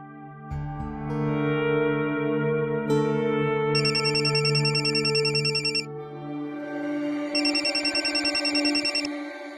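A telephone rings with repeated electronic trilling bursts over a sustained tonal background, loud and close, pausing briefly between ring cycles.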